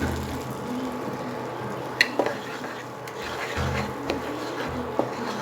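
A spoon stirs spice mix with sugar in a cooking pan for a vegetarian recipe, soft scraping and rubbing with a few sharp taps against the pan, close and fairly quiet.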